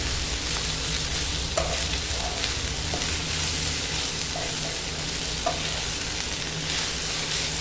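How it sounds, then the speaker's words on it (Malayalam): Eggplant mezhukkupuratti frying in a pan, with a steady close sizzle and a spatula scraping through it at irregular intervals, with no talk. "ഇടയ്ക്ക് ഇതേപോലെ ഒന്ന് ഇളക്കി കൊടുക്കണം കരിഞ്ഞു പോകാതെ"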